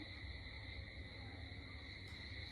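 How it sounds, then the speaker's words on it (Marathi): Continuous high-pitched trilling of frogs at night, faint and steady, with a low background hum and no talking. "आवाज बघा तुम्ही तरी बेडकांचा आवाज आणि कसला येतो"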